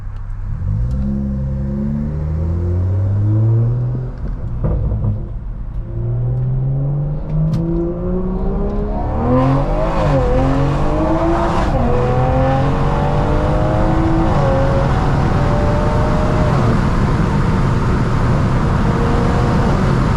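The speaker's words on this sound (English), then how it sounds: "This car shoots such fat pops." A stage 2 tuned BMW M340i accelerates hard at night from inside the car, its engine climbing through several gears with rising and falling revs, loud and continuous, with exhaust crackles as it pulls.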